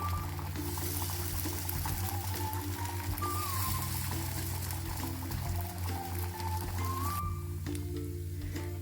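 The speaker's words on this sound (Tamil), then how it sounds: "இது மீன் பொரிக்கிற மாதிரி ஒரு 2 நிமிஷம் விட்டு திருப்பி போட்டு எடுத்துடலாம்." Brinjal slices fry in a pan with a steady, continuous oil sizzle and crackle that runs the whole time, close and even, with no talk over it.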